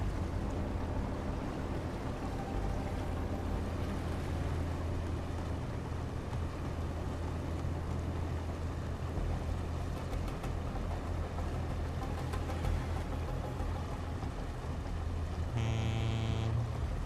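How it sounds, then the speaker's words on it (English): A ship in a naval video game with cannons, its engines cut, keeps gliding through water: a steady, unbroken rush of water and hull noise, fairly quiet, with no voices. "I've completely killed my engines and I'm still just going"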